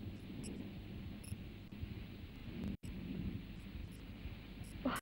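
Heavy rain falling in a village during a storm, a steady dense wash of broadband noise with low rumbling underneath, continuous and close throughout with one brief dropout.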